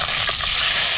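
A single piece of fish frying in hot oil gives a dense, even sizzling hiss that holds steady for about a second.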